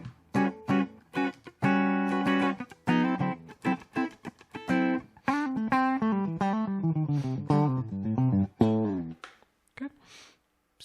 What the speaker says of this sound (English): just the clean sound running from the guitar into the amp and through the impulse response